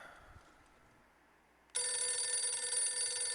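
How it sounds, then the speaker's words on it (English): Telephone ringing in the video game Phantasmagoria 2, a loud electronic bell-like trill that starts abruptly after a quiet moment and continues steadily. "Oh, you better go answer that phone"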